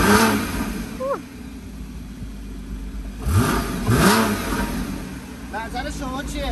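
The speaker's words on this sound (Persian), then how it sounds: "صدای این ماشین به نظر من بد نیست، خوبه" A Porsche engine revs in a few short bursts, moderately loud against a steady background hum, with a brief higher rev near the end.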